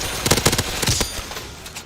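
Rapid machine-gun bursts in Black Ops 3 zombies with bouncing bullets, several sharp close shots in quick succession followed by trailing ricochet-like echoes that fade out.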